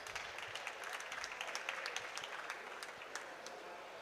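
An audience at the COP27 youth adaptation solutions event claps, a distant, fairly faint burst of scattered applause lasting a few seconds.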